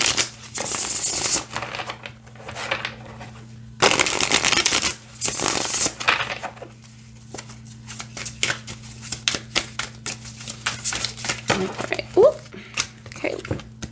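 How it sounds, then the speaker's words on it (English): Raven's Prophecy tarot cards being shuffled by hand, repeated riffling and sliding bursts of card stock, some long and dense, others short and scattered, with a voice talking between them. "Yeah, I don't have a problem with how this shuffles at all."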